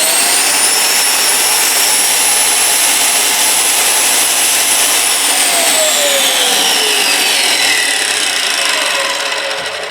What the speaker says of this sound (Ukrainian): Це значить, що ви можете включити плиткоріз. Він плавно запускається.